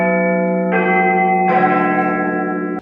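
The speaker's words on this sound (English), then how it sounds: "we just call it Big Ben because that's what the bell is, and the bell chimes every hour or every 15 minutes sometimes" Deep bell tones of Big Ben in London ring out in overlapping, sustained strikes, each new chime entering on top of the lingering hum of the last, loud and resonant with no talking.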